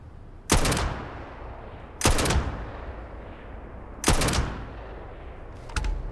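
Rifle fire in the video game Starfield sounds as three sharp, loud single shots about two seconds apart, each with a short decaying tail, followed by a fourth quicker, lighter crack at the end.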